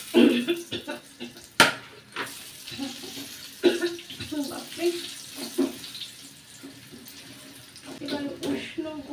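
Warm water is poured into a cooking pan of Padma hilsa fish curry with fried potatoes and chilies, giving splashy, uneven gurgles and a sharp clank of the pan, with a voice talking over parts of it.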